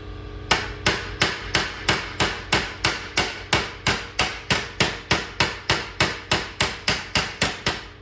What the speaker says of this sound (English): I'm just going to use a regular carpenter's framing hammer.